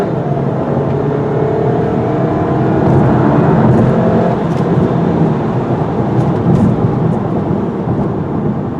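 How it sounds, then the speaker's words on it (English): A 2017 VW Golf Alltrack with 4Motion and a 170–180 horsepower engine accelerates, giving a steady, loud interior engine drone with a broad rumble that swells slightly, and no talking over it. "Engine has a nice snarl to it"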